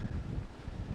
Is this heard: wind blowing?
yes